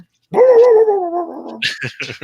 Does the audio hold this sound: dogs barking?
yes